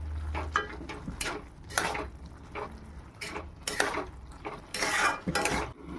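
Gourd curry with turmeric being stirred in a pan, a spoon scraping and clinking against the metal in repeated bursts, close by, over a low steady background hum.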